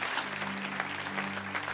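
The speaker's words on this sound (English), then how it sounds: "Let's give him an applause." A church congregation applauds in sustained, steady clapping that fills the room, with a low hum of voices beneath it.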